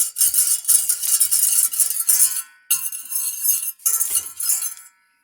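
Butter and wine being whisked together in a pan over low heat for a beurre blanc, a close, steady metallic scraping and clinking of a whisk in two bursts with a short pause between, ending in quiet.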